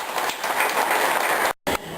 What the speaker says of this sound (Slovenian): bi prosil, da skupaj podarimo en aplavz šmarskim gasilcem in pa tudi ostalim gasilcem